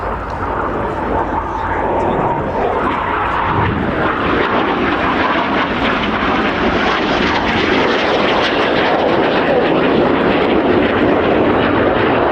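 Red Arrows display jets roar past at the RIAT airshow, a loud sustained engine rush that fills the whole stretch, with commentary running underneath.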